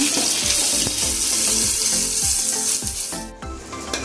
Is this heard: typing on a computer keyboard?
no